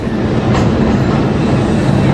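Passenger train running on rails toward Soho, a loud steady rumble with rattling wheel noise throughout, close by and continuous.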